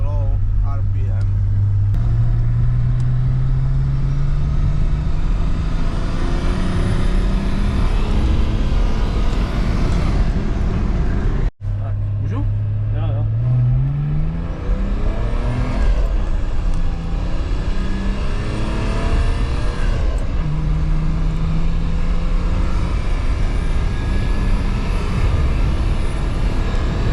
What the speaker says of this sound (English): So it's a big turbo, but has no power in low RPM.